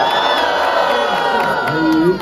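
A dense crowd at a street-football tournament match cheers and shouts continuously, loud and close, with whoops and high voices rising above the roar.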